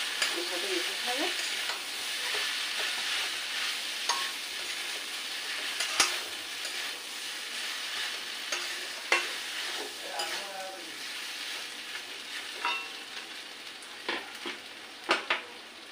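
A frying mixture stirred in a pan, a continuous close sizzle with repeated spatula scrapes and light clinks scattered throughout.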